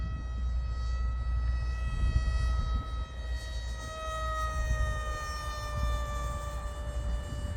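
Zagi RC flying wing powered by a brushless electric motor at half throttle, giving a steady high-pitched whine with multiple harmonics that drifts slightly in pitch as it passes, over constant wind and outdoor rumble.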